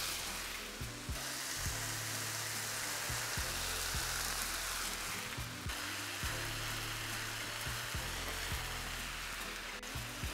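Day-old rice stir-fried with beef and crushed black pepper in a hot pan, a loud, continuous sizzle with repeated scraping and tossing strokes throughout.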